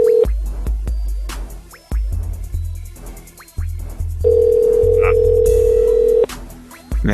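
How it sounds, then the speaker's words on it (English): A telephone line tone sounds while a call waits to be answered, a steady electronic tone that cuts in and out between loud thumps and clicks, ending in one long, unbroken stretch. "Man, come on, pick up the phone."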